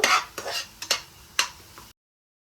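A utensil scrapes and stirs eggs roasting in a pan for egg bhurji, with four or five quick, close scraping strokes over a faint sizzle, then sudden silence.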